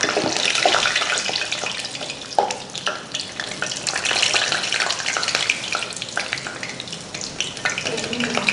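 Steady crackling sizzle of thin-skinned filled pastel pastries frying in hot oil, dense and continuous throughout, with occasional louder pops.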